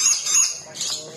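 A bird squawks in an aviary at Bumi Sampireun Vimala Hills: two short, harsh, high-pitched calls close by within about a second, with faint background murmur.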